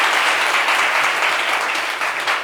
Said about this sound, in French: Merci d'applaudir Patrick Ndjakan, s'il vous plaît.